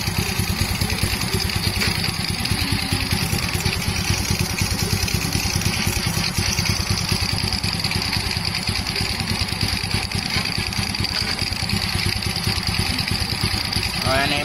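A Honda Wave 110 motorcycle engine runs steadily throughout a carburetor test, a loud, continuous mid-pitched idle putter with no pauses, close by.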